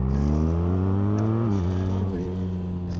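A 2026 BMW R1300RS motorcycle pulls hard in second gear, its engine note rising steadily with strong, close harmonic drone and a brief dip as revs climb, with no talk over it.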